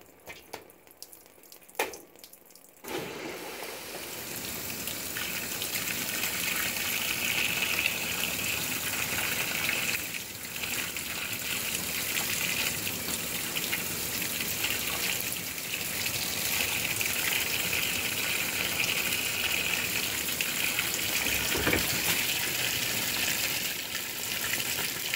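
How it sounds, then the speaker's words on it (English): A GE GTW680BSJWS top-load washing machine filling with hot and cold water, a few quiet clicks and knocks, then a sustained rushing gush that holds steady for over twenty seconds with no voices. "the nice thing about this machine is, especially when filling for warm, it's doing both hot over here and cold on the left"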